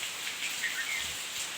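Steady rain falling outdoors during a brief two-minute downpour after a long dry spell, a continuous soft hiss of drops with faint chirps in the background and no talking.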